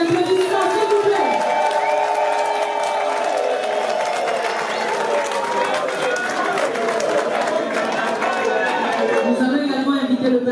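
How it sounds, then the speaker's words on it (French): A large crowd at a Congolese political rally for a presidential candidate cheers and applauds loudly, dense clapping and shouting with music-like tones and chatter mixed throughout. "Sous vos applaudissements, s'il vous plaît."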